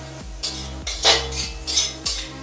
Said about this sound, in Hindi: तो ये फूल गोभी है चॉप किया हुआ और इसे भी अब डाल के भून लिया जा रहा है।